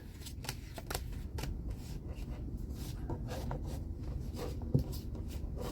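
Playing cards being dealt into two piles during a card trick, heard as a steady run of soft, close slaps and flicks, one sharper snap near the end, with no talk.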